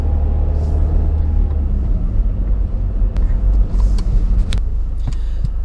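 Car engine and road rumble heard from inside a moving vehicle in England, a loud, steady low drone with a few faint clicks and knocks.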